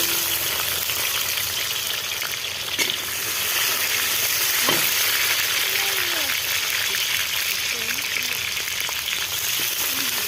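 Chopped onion, cut in fairly large pieces, sizzles steadily in hot oil with bay leaf in a pan for a Bengali chicken dish, a dense continuous frying hiss with occasional stirring scrapes.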